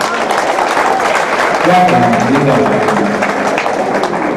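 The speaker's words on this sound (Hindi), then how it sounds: "अगर शायरी आप सुन रहे हैं तो मुझे तालियां बजा के बताएं।" Audience applause at a mushaira poetry gathering, a burst of clapping from the crowd with a voice sounding over it partway through, fairly loud and close throughout.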